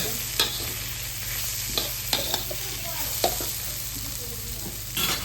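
Poha is tipped into a frying pan and stirred through the masala, a low sizzle under repeated sharp scrapes and taps of a spoon against the pan, close and fairly quiet.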